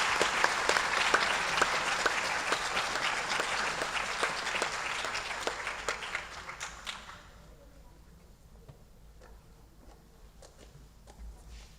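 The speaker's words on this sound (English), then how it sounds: "we could probably do an initial round of applause for both our Presidential Scholars and our Provost Scholars and for the Dean Scholars" Applause at a college academic awards ceremony rolls steadily for several seconds, then drops away to scattered claps and quiet room tone with a few light taps.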